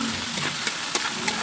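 Adobong sitaw sizzling and frying in a pan while being stirred, a steady hiss with a few soft scraping clicks, close and moderately loud, no talking.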